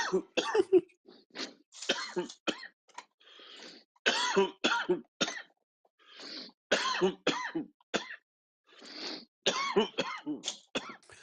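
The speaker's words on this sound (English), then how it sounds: "I know I'm gonna cough." Several sharp, bursty coughs and throat-clearing sounds close by, clustered in fits separated by brief pauses.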